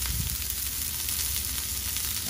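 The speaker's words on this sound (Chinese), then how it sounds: "佢下邊啲油咧都係喺度滾緊嘅" Scallops sear in bubbling oil in a pan over fairly high heat, giving a steady close sizzle with crackling pops and no voices.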